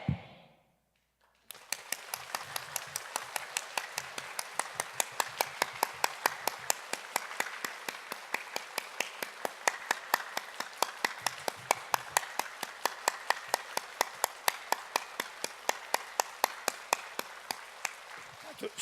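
A church congregation at a mothers' prayer meeting claps hands in a steady, fast unison rhythm, loud and close, sustained for most of the stretch after a brief quiet start, with faint voices underneath.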